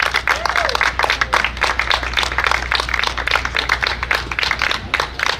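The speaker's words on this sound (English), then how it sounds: "how about a big round of applause for your podium finishers?" Crowd clapping for podium finishers after a Mustang Cup race at Lime Rock Park, loose uneven claps close by with a low background hum and scattered voices.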